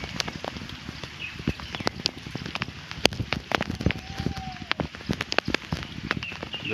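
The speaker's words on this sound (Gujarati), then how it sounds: "હાલ વરસાદ ચાલુ છે।" Rain falls on a farm at night, a dense patter of drops striking surfaces close by, steady and moderately soft with scattered sharper taps and no talking.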